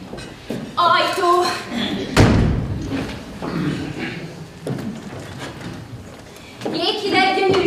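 A door slams shut with one heavy thud during a stage comedy at a theatre, surrounded by people talking and laughing before and after.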